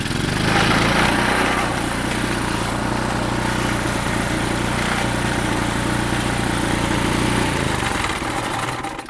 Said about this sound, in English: It's a running generator